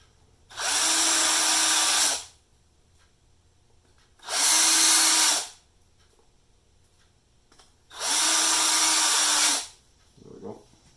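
Three separate bursts of a power drill boring through a stainless steel faceplate with cobalt bits, each lasting about one to two seconds with a steady high whine, separated by quiet pauses and ending with a faint clink.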